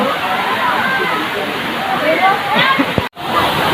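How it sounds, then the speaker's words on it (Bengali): Bamni Falls on Ayodhya hill in Purulia, water cascading down from the hilltop in a loud, steady roar, with voices of people talking nearby over it and a brief dropout near the end. "দেখো একবারে পাহাড়ের উপর থেকে জল ঝরে পুরো নিচে পড়ছে"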